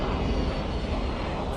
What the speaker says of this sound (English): The engines on the A310 don't have enough power to push it almost vertically into the sky.